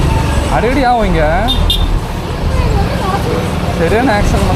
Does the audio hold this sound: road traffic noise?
yes